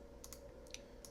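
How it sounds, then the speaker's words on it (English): Soft, quiet typing of a master password on a computer keyboard: a few light key clicks spaced irregularly across about a second, close and alone. "I'm going to enter it in, just type it in."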